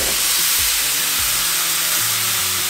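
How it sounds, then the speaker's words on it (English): Four pounds of ground beef sizzles on a very hot Blackstone griddle, a loud, steady, broadband hiss that continues close and unbroken throughout. "So we have got 4 pounds of ground beef here that we're just going to throw on a very, very hot grill, and then Randall's going to cook it up"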